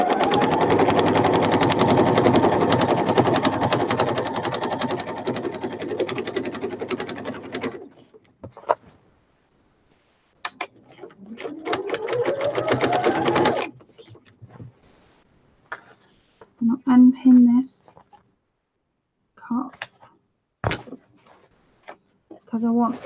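A sewing machine stitches fabric for a sewing machine cover, running in a fast continuous burst, stopping, then running again in shorter runs, with someone talking between the stitching.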